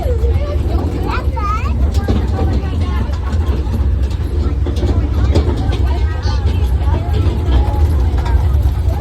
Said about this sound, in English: So the train picks you up and does just a short 15-minute loop